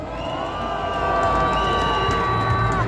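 A crowd at a Saturday candlelight political rally near Seoul City Hall and Sungnyemun cheers and claps, a broad continuous wash of noise that swells slightly toward the end, with no clear speech.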